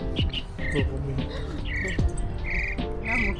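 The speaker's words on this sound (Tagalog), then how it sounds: "ang ganda ng huni ng ibon" Bright bird song rings out repeatedly among croaking frog-like sounds and other animal chatter in Taiwan, close and lively, with no one speaking.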